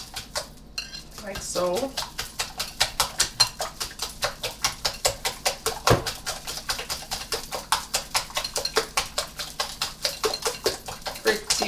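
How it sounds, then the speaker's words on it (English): A utensil beats ingredients in a bowl for a homemade IHOP-style recipe, with steady, rapid clinks of metal against the bowl repeating in a brisk rhythm close up while a voice speaks briefly. "all you have to do now is mix that in really well"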